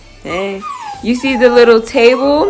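A dog whimpers and yips in a Colorado rental house, a run of high whining cries rising and falling over about two seconds, close and loud, while a person speaks over it.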